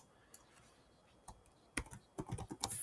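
Quiet keystrokes on a computer keyboard, a few isolated taps at first and then a quick cluster of clicks toward the end, close and faint in a still room.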